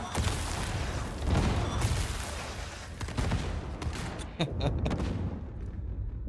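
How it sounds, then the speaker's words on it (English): A grenade goes off during a firefight in Warhammer 40k Darktide: loud, booming blasts tangled with dense, continuous gunfire and chaotic combat noise throughout. "Have a grenade, heretics! Grenade out!"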